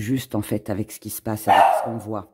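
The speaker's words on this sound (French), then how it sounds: "désolée pour le petit chien" A small dog barks in a few short yaps, partly masked by someone talking steadily over it.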